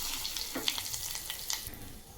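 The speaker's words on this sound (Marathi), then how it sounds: "तेल गरम झालं यामध्ये जिरे मोहरी कढीपत्ता टाकून घेऊ" Cumin, mustard seeds and curry leaves sizzle in hot oil for a coconut chutney tempering, a steady soft crackle with a few sharper pops, fairly faint and without voices.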